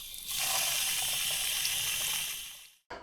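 Water gushes steadily from a backcountry source into a container at a campsite in the Canadian Rockies, a close, continuous rushing hiss for a few seconds before it suddenly stops and briefly resumes.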